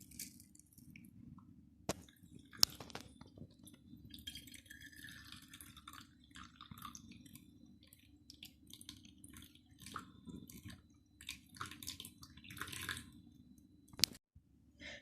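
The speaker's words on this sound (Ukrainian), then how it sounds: "фільтруємо забруднену воду" Faint irregular drips and trickles of dirty water passing through a homemade activated-charcoal filter in a quiet space, with a few sharper clicks and a low background hum.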